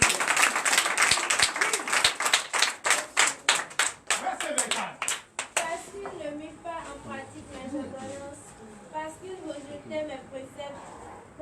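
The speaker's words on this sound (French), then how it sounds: "Donnez de l'acclamation à Dieu" A church congregation at a Sunday service in Benin claps in strong rhythmic unison for a few seconds, then the claps thin out into scattered cheering and voices.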